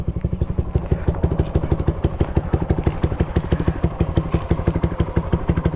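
Motorcycle with an Akrapovic exhaust, silencer removed but dB killer fitted, idling close up with a loud, rapid, even thumping pulse throughout, no rise in revs.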